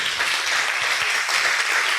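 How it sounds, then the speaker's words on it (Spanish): Congregation clapping in a church after a sermon call to applaud the Lord, a short, steady wash of many hands throughout, fairly loud and continuous with no voices over it. "Damos un aplauso al Señor."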